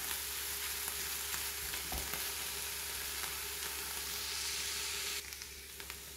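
Chanterelle mushrooms and garlic cooking in a pan give a soft, continuous sizzle and crackle, faint and steady throughout, with a brief knock near the start and a slight drop in the final second; no voices.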